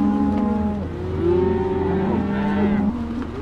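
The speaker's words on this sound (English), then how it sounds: "The cows are moving." A herd of cattle being driven down a trail lowing, with long overlapping moos from several animals carrying over a steady outdoor background, moderately close.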